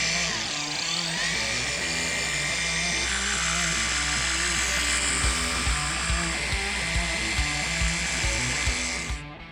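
A car body polisher fitted with a Sonax medium cutting pad runs on the rebuilt body tub of a classic Ford Bronco, producing a loud, continuous motor whine with layered tones that holds steady for about nine seconds before cutting off.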